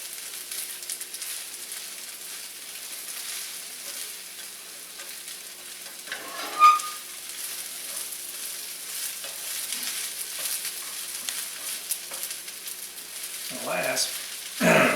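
Pork fried rice with egg is stirred in a pan, a soft low sizzle running quietly throughout with a few sharper scrapes and clinks of the utensil, close by.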